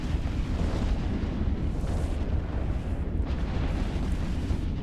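A spaceship explosion in EVE Online, a loud, sustained rumbling boom with dense low roar and no clear break for about five seconds.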